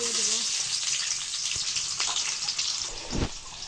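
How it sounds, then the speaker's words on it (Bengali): Large onions frying in oil for chicken biryani, a broad hissing sizzle with a few stirring knocks, close and fairly loud. "এগুলো লাল লাল করে একটু ভেজে নিচ্ছি একটু ভালো করে"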